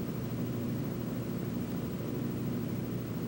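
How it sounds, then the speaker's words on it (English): A 1954 Helio Courier light airplane cruises at about 160 mph with slats and flaps retracted, giving a steady, unbroken broadband engine and wind drone at constant level. "With the slats and flaps retracted, the Courier is cruising here at a high speed of approximately 160 miles an hour."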